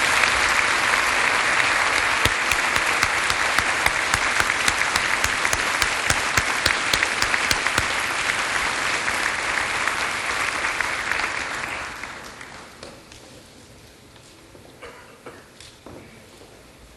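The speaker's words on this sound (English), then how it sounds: "Now we can clap." Audience applause at a university graduation ceremony after an honorary degree is conferred, a dense sustained clapping from a large crowd that holds steady for about twelve seconds, then fades to scattered claps and quiet room noise.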